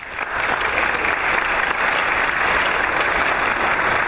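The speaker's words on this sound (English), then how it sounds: "Let's give them a round. Applause." Steady, loud audience applause for theater personnel at a children's choir concert, a dense wash of many hands clapping continuously throughout with no voices on top.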